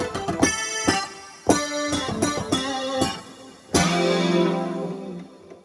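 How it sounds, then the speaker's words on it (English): A synth strat guitar preset stacked on an MPC keygroup plays a run of bright plucked chord stabs and single notes, then a longer ringing chord that fades out, with no one talking. "So the synth strat sounds like this."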